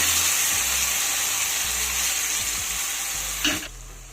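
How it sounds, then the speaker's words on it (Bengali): Spinach paste sizzles steadily in a hot pan with oil, a constant close frying hiss broken by a few soft stirring scrapes and a brief louder clatter near the end. "এবার আমি পেস্ট করে রাখা সেই পালং শাকটা দিয়ে দিলাম"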